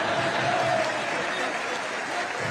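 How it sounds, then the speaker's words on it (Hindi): An audience at the Prime Minister's address to the Indian community in Nigeria claps loudly and steadily, a dense wash of applause filling the hall throughout with no pauses. "आपकी ताली से पता चल गया मुझे।"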